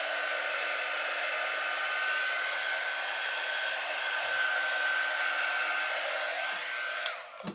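Hair dryer blowing steadily and close by, drying paste on a milk jug craft, a continuous loud whoosh that holds for several seconds before cutting off with a brief click at the end.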